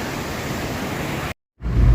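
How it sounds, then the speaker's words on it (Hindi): Water pours down a small waterfall in Pakistan in a constant broadband rush that breaks off briefly with a cut before returning heavier and lower. "पानी आ रहा है और ये इस तरफ, ये इस तरफ, ये यहाँ जा रहा है, ये वाटरफॉल सा बना हुआ है"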